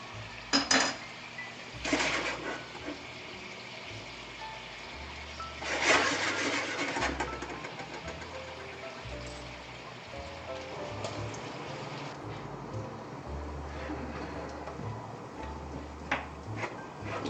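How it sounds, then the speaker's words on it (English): Bacon fries in its own rendered fat in a pan, giving a steady broadband sizzle with a few louder bursts and occasional clinks of a utensil against the pan. "So that bacon's cooking pretty nice"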